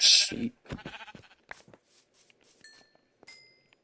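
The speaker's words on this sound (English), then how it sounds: "Some sheep." Sheep in a video game give a short bleat or two, fairly close, followed by faint clinks and small game effects with no talk.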